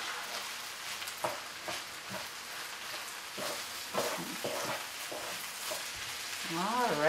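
Spanish rice fries in a pan with a steady, close sizzle and crackle, broken by occasional stirring scrapes. A voice rises briefly at the end.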